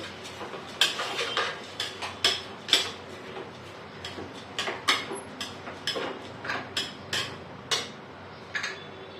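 Khichdi ingredients are stirred in a metal pan with a spatula, giving a series of sharp, close scraping clinks and taps in an irregular rhythm over a quiet background.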